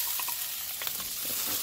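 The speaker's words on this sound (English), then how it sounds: "Now I'm going to go in with my half cup of broth." Half a cup of broth poured into a pan of sizzling chicken stir fry, a close, bright crackling hiss with small pops and bubbling, steady throughout.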